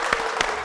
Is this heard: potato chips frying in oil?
no